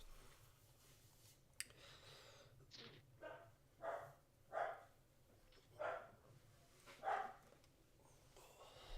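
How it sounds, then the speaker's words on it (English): A dog barks upstairs, muffled and fairly distant, giving about five separate barks at an uneven pace over a low steady room hum. "Got Lacey barking upstairs"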